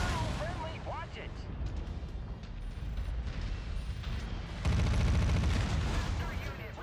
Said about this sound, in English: Sector unit receiving heavy fire.